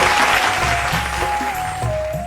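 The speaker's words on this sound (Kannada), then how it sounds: "ಆ ಒಂದು ವಿದ್ವತ್ತಿಗೆ ನಾವು ಅವ್ರಿಗೆ ಚಪ್ಪಾಳೆ ಕೊಡಲೇಬೇಕು" Audience applause on a televised singing reality show, a dense wash of clapping from a studio crowd under a sustained held tone, fairly loud and steady.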